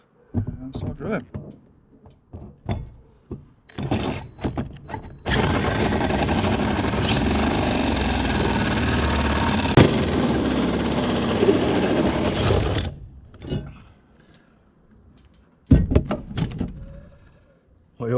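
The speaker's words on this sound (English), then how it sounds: "And start drilling." A power drill cutting into the metal roof of a Peugeot Boxer van to fit a MaxxAir dome, a loud sustained grinding whine for several seconds, framed by knocks, short bursts and someone talking before and after.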